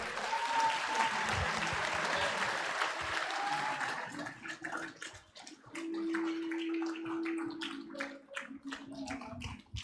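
Applause from a felicitation ceremony audience at a university swells into a dense wash, then continues as sparser, more distinct claps with a steady tone and faint voices underneath.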